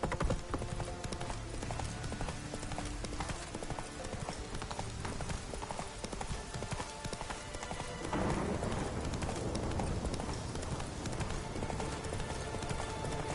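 Roach the horse trots through The Witcher 3, hooves clip-clopping in a steady, close rhythm that grows slightly louder and busier toward the end, with faint rain-like patter underneath.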